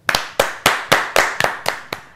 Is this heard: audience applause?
yes